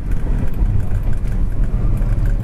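A 1971 Oldsmobile Cutlass 442 clone running under way, a steady, loud, low engine rumble with road noise and no talking, close and constant throughout.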